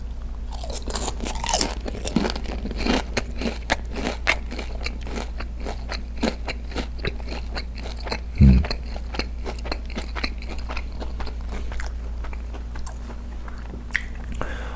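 Close, crisp crunching of bites into crispy fried chicken, followed by steady crackly chewing, loud and dry against a quiet background.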